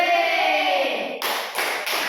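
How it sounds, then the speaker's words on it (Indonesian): A quick burst of hand clapping from a group in a classroom, sharp and close, breaking in abruptly after a held tone and continuing in a few dense rounds. "Oke, kasih tepuk tangan."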